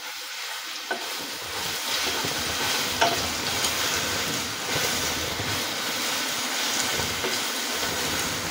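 Ginger garlic paste frying in a pan while cooking chicken angara, a steady close sizzle with scattered light scrapes and taps of stirring, continuous and fairly loud.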